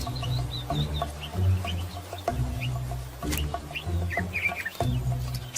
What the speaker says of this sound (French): C'est le seul oiseau capable de digérer la cire d'abeille.